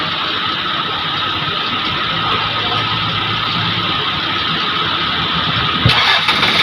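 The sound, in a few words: engine starting up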